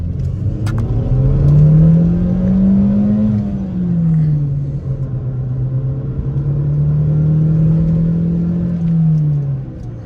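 A stock seventh-generation Honda Civic with a manual gearbox driving at night, the engine a steady low drone heard from inside the cabin, rising and falling gently in pitch as the revs change with the throttle.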